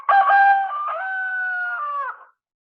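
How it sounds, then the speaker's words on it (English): A rooster crows once, close and loud, in a single sustained cock-a-doodle-doo lasting about two seconds with no other sound. "A cock crows."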